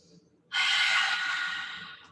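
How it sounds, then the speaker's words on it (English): A single long, breathy exhale out through the mouth during a gentle hatha yoga class, close and fairly loud, rising suddenly and fading slowly over about a second and a half. "Take an exhale out through your mouth."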